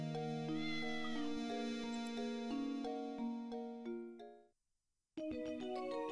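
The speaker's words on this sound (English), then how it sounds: "Lady Dahlia's cat has escaped" A cat meows as a sound effect in the Professor Layton and the Curious Village video game, with tonal, melodic cries over steady game music before a brief silence and a return of the music.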